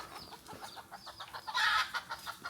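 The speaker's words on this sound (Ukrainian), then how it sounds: "Тут ми зустріли місцевих жителів дикі кури та півники, їх тут досить багато." Several wild chickens and roosters cluck and chatter close by in quick, overlapping bursts beside a storm drain channel on Tenerife, with one louder squawk partway through.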